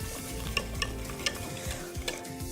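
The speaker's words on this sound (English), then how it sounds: "As soon as you crack them in, whisk as fast as you can so the eggs won't scramble." Whole eggs are whisked quickly into melted butter in a pan, a soft sizzle under a run of brisk scraping and clinking whisk strokes, with no voices.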